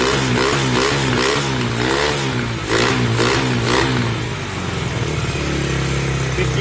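A motorbike engine idles with a loud, lumpy throb, then is blipped up in a couple of quick revs before settling back to a steady idle, close by with no talking.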